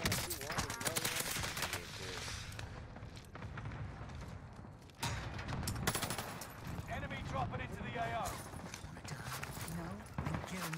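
Dense, continuous automatic gunfire from a Call of Duty Warzone match using a C58 assault rifle, with rapid shots layered over game noise for the whole stretch.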